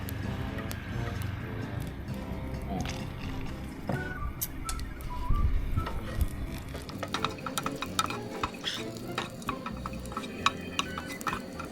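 Garlic stir-fried in a pan over medium heat, with a steady close sizzle under busy scraping and clattering of a spatula against the pan throughout.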